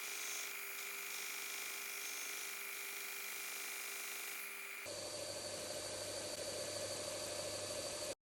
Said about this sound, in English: press it against my belt sander